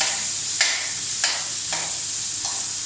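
Pork and chillies stir-fry with holy basil over a gas stove, a constant bright sizzle punctuated by regular spatula strikes about twice a second, close and clear, with no voices.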